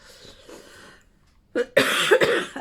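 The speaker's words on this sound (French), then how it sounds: "J'avais pas encore toussé aujourd'hui." A quiet breathy stretch gives way to a burst of harsh, close coughing, two or three rough coughs in quick succession.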